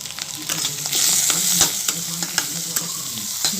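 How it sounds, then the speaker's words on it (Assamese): Potatoes fry in hot oil with salt and turmeric, a bright continuous sizzle broken by the scrape and clack of a spoon stirring the pan, close up and steady, with no voices. "এইখিনি মই আলুখিনি ভাজি লৈছোঁ ধুনীয়াকৈ, অকণমান কাঢ়াকৈ ভাজি ল'ব।"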